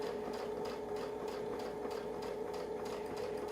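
A sewing machine runs steadily, stitching a quilted 8-inch block along a zigzag quilting template, with an even mechanical hum and a fast rhythmic needle chatter throughout.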